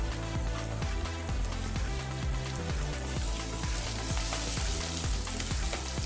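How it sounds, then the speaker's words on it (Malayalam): Onions and tomatoes with curry leaves and kudampuli sauté in a pan for a threadfin bream roast, giving a loud, constant sizzle flecked with rapid crackling pops, close and unbroken throughout. "ഒരുവിധം നന്നായിട്ട് വഴറ്റണം."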